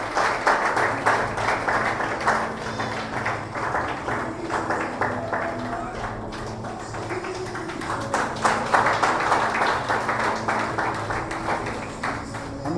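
At a Sunday evening prayer service, a congregation claps loudly to welcome a student, a sustained burst of hand-clapping that swells and dips over a low, steady background tone.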